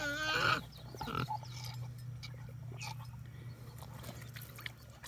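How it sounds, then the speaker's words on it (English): A pet pig drinks from a water dish and spills some, with wet lapping and dripping sounds over a low steady hum, plus a brief grunt near the start. "Yeah, I gave Miss Piggy some water."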